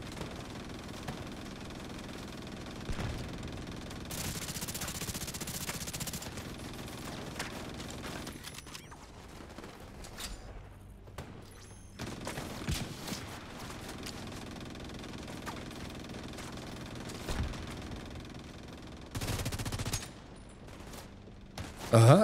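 Gunfire in a crossfire in The Division 2 crackles in repeated volleys and bursts over a steady background rumble, intensifying and fading across the stretch with short quieter gaps between exchanges.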